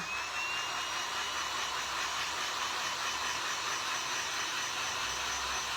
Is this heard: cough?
no